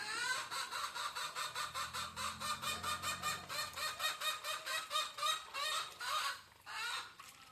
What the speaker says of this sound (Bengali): এগুলো হচ্ছে বড় হাঁস, আর বাকি সবই ছোট।